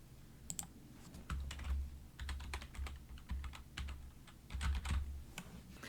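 Close, quiet typing on a computer keyboard, with quick irregular bursts of key clicks separated by brief pauses and no voice.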